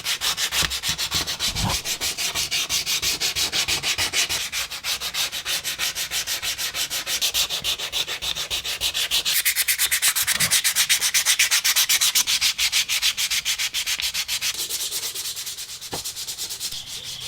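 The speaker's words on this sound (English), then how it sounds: "I got a piece of 80 grit, or I'm sorry, 180 grit that I'm going to just do some hand sanding all along the bait here" Hand sanding along a fishing lure body with 180 grit sandpaper produces a continuous, close, rapid back-and-forth rasping that runs steadily without speech.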